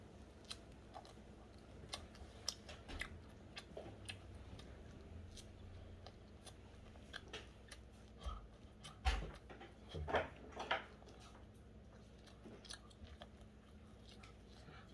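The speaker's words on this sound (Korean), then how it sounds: "자, 이제 빵 좀 먹어볼게요." Someone eating salt bread at home, soft close chewing and crunchy bites coming in scattered bursts over a quiet room, louder clusters near the end, with faint background voices.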